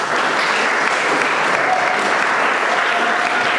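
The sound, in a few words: audience applause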